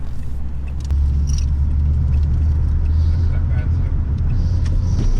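A Renault Clio 172/182 Trophy fitted with a BAF Motorsport K brace rounds a roundabout, its engine a loud, constant low drone heard from inside the cabin, with a voice speaking briefly over it.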